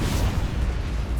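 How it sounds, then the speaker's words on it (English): A gigantic warp reactor detonation in the space strategy game Battlefleet Gothic Armada 2, a continuous loud, low rumbling blast that roars steadily throughout without a break. "that big rock exploding, gigantic reactor detonation"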